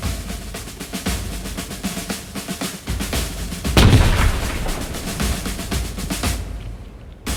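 Ceremonial cannon salute at the Citadelle of Quebec during a welcoming ceremony for a new governor general, heard as a continuous dense rumble of booming shots and crowd noise, with a louder, closer blast about midway, fairly loud throughout.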